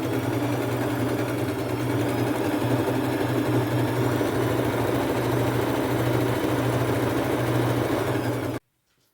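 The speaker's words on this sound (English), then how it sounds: "just zigzag towards the edge here so that it doesn't have excessive fraying" A sewing machine runs steadily, zigzag stitching along the edge of a thrifted fabric piece during upcycling, its motor drone continuous and fairly loud for about eight and a half seconds before cutting off abruptly.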